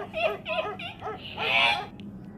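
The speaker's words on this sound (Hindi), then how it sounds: "कुत्ता है।" A dog gives a series of high, whiny yips and whimpers, several short cries in quick succession followed by a longer plaintive whine, close and fairly loud.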